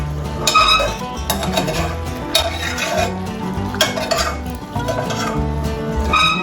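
Cabbage being stirred in a pot before browned hamburger meat goes in, with repeated scraping and clinking of a utensil against cookware, fairly loud and close, carrying on steadily with no talking.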